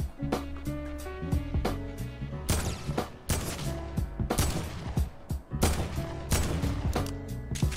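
Rapid, repeated gunfire in the Fortnite Battle Royale video game, with sharp close shots in quick bursts and volleys layered over game music and background effects.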